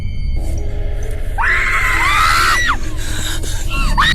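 Frightened people scream loudly and shrilly in a horror setting, with one long high shriek rising sharply and then cutting off, followed by a brief second cry over a rough, noisy background.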